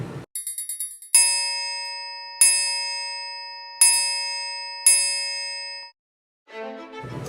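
Several bright metallic strikes ring out one after another, each chime sustaining and fading, followed by silence and a brief noise at the end.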